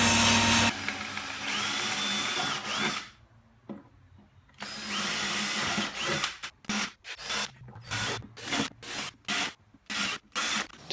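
A power drill drills pilot holes in a wooden tool-stand frame, whirring in a long continuous run, pausing, running again, then firing in a series of short rhythmic bursts biting into wood.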